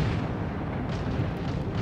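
Continuous heavy booming and rumbling of naval gunfire in World of Warships, dense and loud, with repeated blasts blending into a roaring wall of noise.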